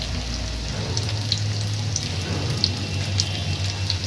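Samosas (singara) deep-frying in hot oil, a continuous crackling bubble with scattered sharp pops over a low steady hum, close and even throughout.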